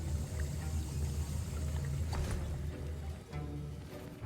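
Liquid swirling and sloshing in a cauldron as a potion is stirred in Hogwarts Legacy, a steady watery churn over a low ambient music bed with no voices.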